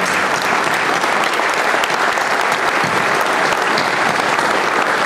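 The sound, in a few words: audience applause for event sponsors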